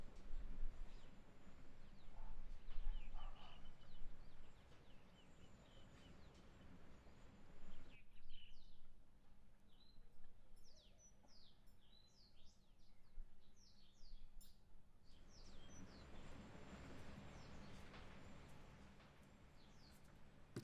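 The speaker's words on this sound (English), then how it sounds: "You can hear the birds chirping in the game" Birdsong from a video game: short high chirps and tweets scattered through the middle stretch, fairly clear over a low background, with denser noisier game ambience before and after.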